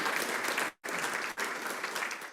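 A crowd at a Geelong pitch event applauds for the presenter Sue, loud sustained clapping broken by two short cuts in the sound.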